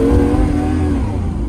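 A Lamborghini Countach's engine revs loud and close, a steady throaty growl with a low gurgling burble holding for a moment before easing slightly.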